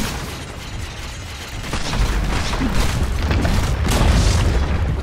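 A tower being destroyed in Dota 2, a rumbling boom with crumbling bursts and layered explosive impacts that build in loudness over several seconds amid game effects.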